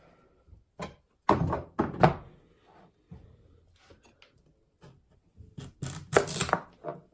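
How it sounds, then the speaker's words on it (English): A knife chopping through a butternut squash in a kitchen, heard as a series of heavy, irregular thunks and clunks on a cutting board, with quiet gaps between strikes and a louder cluster near the end. "I've never cut a butternut squash before"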